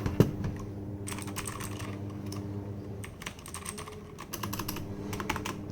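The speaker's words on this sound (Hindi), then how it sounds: "कीबोर्ड की साउंड्स भी अच्छे लग रहे हैं।" Key clicks from a Zebronics Zeb-Max V2 mechanical keyboard, rattling out in steady bursts of fast typing with short pauses between runs, close and fairly quiet over a constant low background hum.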